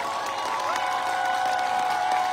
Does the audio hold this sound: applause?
yes